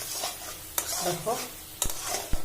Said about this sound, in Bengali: আমার চিনিটা কি সুন্দর জাল দিয়ে হচ্ছে